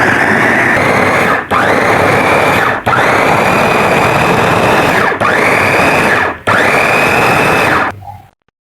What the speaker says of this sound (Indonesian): cabenya, bawang, tomat ya bun, kita haluskan